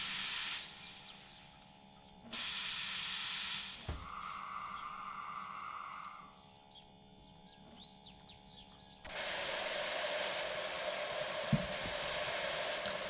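Steam locomotive hissing in the Derail Valley train game: loud bursts of steam venting alternate with quieter stretches of mechanical hum and chirping squeals, the hiss cutting in abruptly, stopping, then returning strongly near the end.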